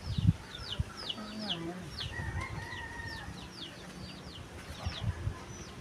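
Chickens cluck and squawk in a rural yard, several birds calling in bursts over a steady outdoor background, with occasional thumps nearby.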